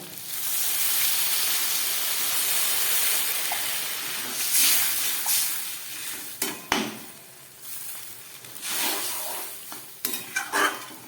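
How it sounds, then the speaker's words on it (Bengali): Water poured into a hot pan of pumpkin, potato and chickpea curry cooked down with spices, a steady close sizzle and hiss with occasional sharp bursts and utensil scrapes, no talking. "আলু, কুমড়ো, ছোলা সব কিছু দিয়ে মশলা দিয়ে কষানো হয়ে গেলে এবার আমি দিয়ে দিচ্ছি জল"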